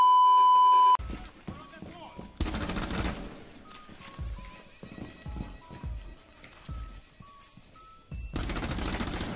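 Rapid automatic gunfire in Rainbow Six Siege, loud bursts of shots starting and stopping across the scene, with beeps and other game effects in between and a voice talking over parts of it.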